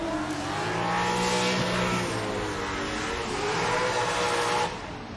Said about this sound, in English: So let's listen to the Roush Performance Falcon Tire Ford Mustang.